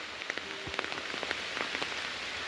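Rain falling outdoors during coconut husking work in a muddy spot: a steady dense hiss of drops with scattered sharper patters on nearby surfaces, with no talk.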